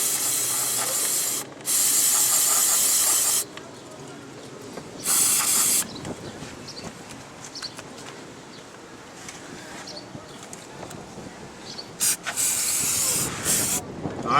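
Aerosol cleaner hisses in several loud bursts onto carbon buildup in a 2010 Nissan Sentra engine during spark plug replacement, with quieter rattling and handling in between.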